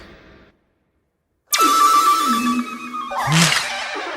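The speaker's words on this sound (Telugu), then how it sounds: "ఈ రింగ్ టోన్ విన్నావా? ఇది పిల్లల అరుపు." A phone ringtone made of a child's scream cuts in suddenly after a short silence, a loud, shrill, sustained cry that rises and shifts near the end.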